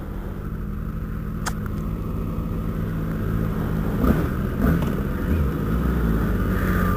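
Two sport motorcycles, a Suzuki Gixxer 600 and a Kawasaki ZX14, rumble steadily on a group ride, their engines a continuous low drone that swells slightly toward the end, with no voices.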